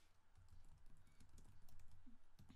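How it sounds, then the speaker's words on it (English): Typing on a computer keyboard to enter a search into a browser, a quick soft patter of keystrokes heard close up with no one speaking. "I'm going to type IntelliJ Idea"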